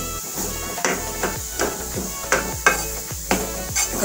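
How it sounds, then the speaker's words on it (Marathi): Chana dal being stirred and roasted in a pan, with a spatula scraping and knocking in irregular strokes over a steady faint sizzle, close and moderately loud. "आता आपली ही डाळ भाजत आलेली आहे"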